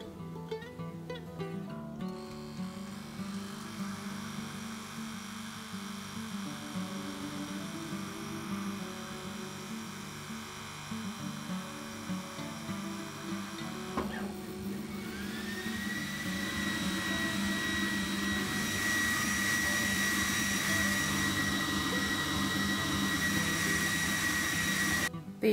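An AlgoLaser Delta 22W laser engraver with its air pump runs on wood, giving a steady mechanical hum and whir that grows louder and brighter partway through, with a high whine joining in; continuous and close, no talk.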